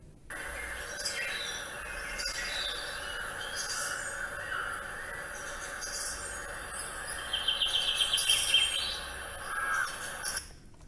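Birds call outdoors, crow-like caws and chirps scattered throughout over a steady hiss of insects, with a rapid burst of calls near the end, moderately faint and without voices.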